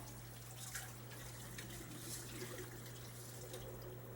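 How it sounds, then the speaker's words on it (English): Tap water emptied out of a beaker in a gold-refining setup, a faint, steady watery rush with a constant low hum behind it. "Next, I'll empty out the tap water."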